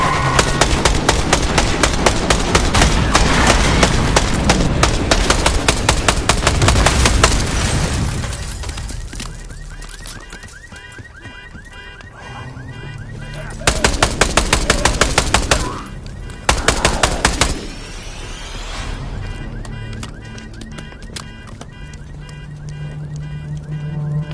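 Gunfire in the Call of Duty Black Ops 6 video game: loud sustained automatic bursts, then a calmer stretch of ambience, then more short rapid volleys, dense and close, with explosive booms mixed in.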